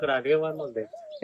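A soft, low coo from a pigeon that cannot fly rolls out in one short phrase, close by and fairly quiet, followed by a brief clipped sound at the end.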